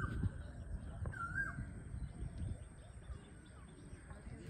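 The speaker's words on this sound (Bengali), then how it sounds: "কোকিল ডাকছে।" An Asian koel calls a few times, faint and somewhat distant, over low outdoor background noise in a quiet setting beside the Rupnarayan River near Kolaghat.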